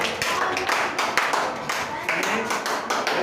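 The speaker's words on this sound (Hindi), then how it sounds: "सब लोग ताली बजाइए।" Pupils in a classroom clap for a student called up during a physics lesson on convex lenses. The clapping comes in lively, uneven bursts, and voices talk through it.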